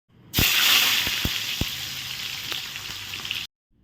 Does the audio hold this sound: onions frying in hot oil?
yes